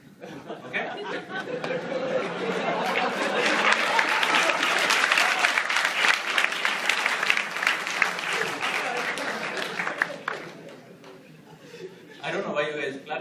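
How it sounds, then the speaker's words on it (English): Audience at a stand-up comedy show at IIT Madras claps hard, mixed with laughter and chatter; the applause swells, holds for several seconds, then fades before a voice and more noise return at the end. "I don't know why you guys clap so much for this."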